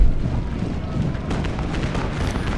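Continuous rumbling battle din of musket volleys and artillery fire from a Gettysburg Civil War strategy game, dense, steady booming and crackle throughout with no distinct single shots.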